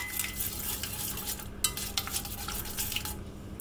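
A sauce is whisked in a pan, producing quiet, rapid scraping and light metallic taps of the whisk against the pan, fairly faint and steady, with a couple of brief pauses.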